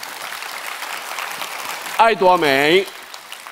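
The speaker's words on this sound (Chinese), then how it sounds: "掌声再次响起。" Audience applause at an Atomy company introduction talk, a broad steady patter of many hands for about two seconds before a voice speaks over the fading clapping.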